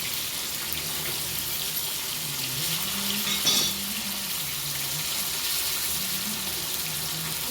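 Fish coated in green masala frying in a pan, a loud continuous hiss and sizzle at close range with a brief louder burst midway, no voices.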